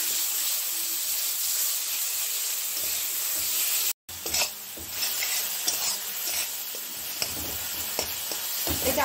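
Garlic sizzles steadily in hot oil in a pan, a loud continuous hiss with small crackles that cuts out for a moment before resuming.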